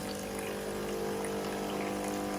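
A Nespresso Gemini coffee machine runs its rinse program, its pump forcing water through with a steady, loud mechanical hum and a rushing watery hiss that continues unbroken throughout.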